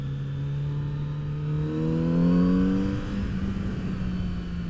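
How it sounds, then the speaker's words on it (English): A Kawasaki Z900 RS motorcycle with stock exhaust revs up close, its pitch climbing and holding before settling back to a steady, throaty idle, with no talking. "I feel like there's not a lot of stock exhaust that sound this good."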